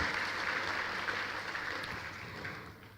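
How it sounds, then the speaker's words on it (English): At a B.Tech orientation program, an audience gives a round of applause to a guest, a brief, fairly faint wash of clapping from many people that tapers off slightly. "Everybody, please give a huge round of applause."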